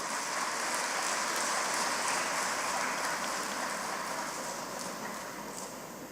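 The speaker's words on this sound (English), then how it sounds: "we give a handful of applause for what he was" Faint, distant applause from a crowd at a convocation ceremony, a soft continuous patter of many hands that gradually fades toward the end.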